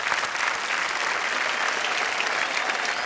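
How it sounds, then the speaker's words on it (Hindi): Loud, steady audience applause at a comedy and poetry stage show, a dense unbroken wash of clapping with faint crowd noise that holds at an even level throughout. "एक बार जोरदार तालियां फिर इनके लिए।"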